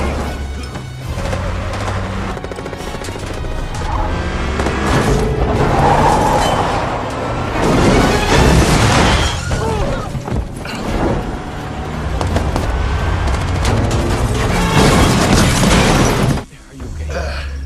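Violent crash impacts and booming collisions from an action film as a car rams into mercenaries, loud and dense throughout, heavily mixed with narration-level voice over the top.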